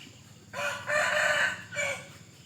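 A Burmese mixed-breed fighting rooster crows loudly and close by, one drawn-out call with a brief pause before a final note, with no talking.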